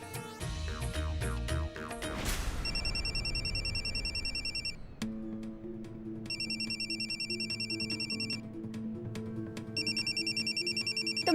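A phone ringtone plays a repeating electronic melody in regular bursts, clear and fairly close, after a brief burst of louder music at the start.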